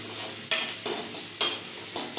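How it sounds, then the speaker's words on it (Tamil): Onions sizzle steadily as they deep-fry in ghee in a pan while being stirred, with a few louder scraping bursts of the spoon. No voices. "நெய்யில் போட்டுக்கிறேன் ஓகே அது நல்லா டீப் ஃப்ரை ஆகணும்"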